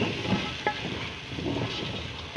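A mixture with milk powder added sizzles steadily as it roasts in a pan over medium heat, giving a continuous close crackle with a few soft knocks.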